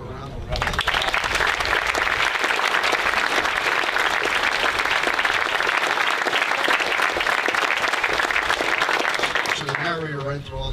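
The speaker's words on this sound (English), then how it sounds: "Can I ask you one more time for a round of applause?" Marines, sailors and guests at a military change of command ceremony give a long, loud, dense round of applause that fills the space steadily for about ten seconds before tapering off at the end.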